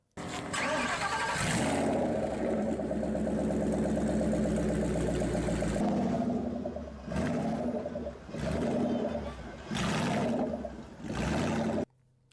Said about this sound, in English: the real-life version has a V8. For some, this makes the car one of the best sounding cars ever.